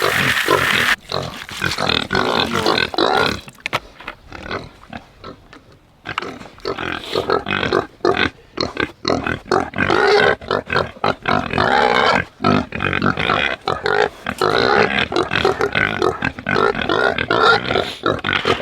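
Pigs grunt and squeal loudly and constantly at close range while eating feed, a dense chorus of snorts with a brief quieter lull partway through.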